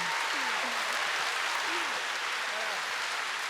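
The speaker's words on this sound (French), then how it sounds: "s'il vous plaît, encore une fois, beaucoup d'applaudissements pour elle" Dense, sustained applause from a festival masterclass audience, steady throughout, with faint voices calling out underneath.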